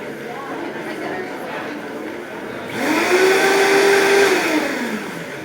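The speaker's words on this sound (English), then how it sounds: "All goes in the blender and blends right out." A blender whirs loudly nearby, its motor rising in pitch as it spins up to blend a salad dressing with lime juice, with faint background noise before it starts.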